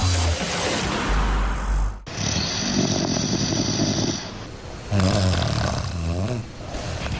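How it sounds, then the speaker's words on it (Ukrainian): A person snores loudly and close, with heavy rasping snores that break off abruptly and return in long rattling bursts. "Здається, солодко лише цьому хропуну, проте ви й не здогадуєтесь, що ці дратівливі звуки – тривожні сигнали"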